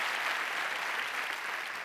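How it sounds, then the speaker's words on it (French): A comedy-show audience applauds steadily, a dense, even wash of many hands clapping that fills the room and holds without pause. "On peut applaudir pour lui, non?"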